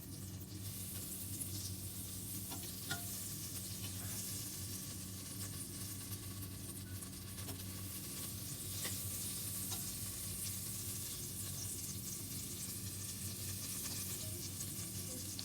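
A tablespoon of butter melts in a pan as the base for a white sauce, giving a quiet, steady sizzle with a few soft clicks and stirs, faint and continuous.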